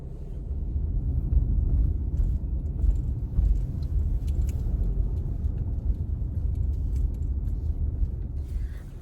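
A car engine rumbling low and steady from inside the vehicle as it sets off, a continuous close drone with faint rattles and no voices.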